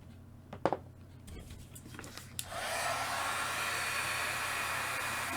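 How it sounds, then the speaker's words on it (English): A heat gun for heat embossing switches on and blows a steady, loud rushing whoosh after a few faint handling clicks and taps, holding constant to the end. "Letting my heat gun get warmed up."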